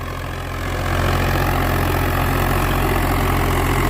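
A Swaraj 855 tractor fitted with new larger tyres idles steadily up close, its loud diesel engine a continuous low rumble that swells slightly in the first second, with no talking.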